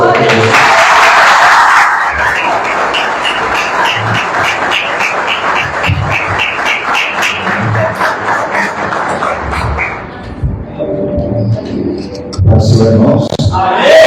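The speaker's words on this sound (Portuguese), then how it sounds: "Pode bater palmas para ele" A congregation applauds at a Brazilian theology course graduation ceremony. Loud clapping fills the first seconds, then fades into shuffling and crowd murmur, and voices return near the end.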